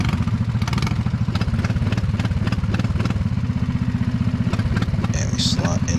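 Racing kart engine idling on the grid before a wet league night race, running rough with a steady dense putter that nearly dies out, held alive with throttle blips, close and loud throughout.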